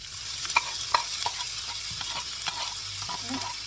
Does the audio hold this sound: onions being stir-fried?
yes